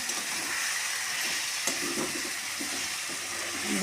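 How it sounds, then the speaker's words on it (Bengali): Spice masala stirred into a flat bean seed curry in a hot pan, giving a steady close sizzle and frying hiss with a few soft scraping strokes of the spoon. "এই যে মশলাটা দিয়ে একটু নাড়াচাড়া দিয়ে দেবো, ভালো করে সুন্দর করে সব মিক্স হয়ে যাবে।"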